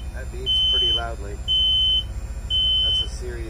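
Warning beeper on the wheelchair lift of a 2007 Freightliner handicapped bus: three loud, steady high-pitched beeps about half a second each, evenly spaced, with someone talking between them.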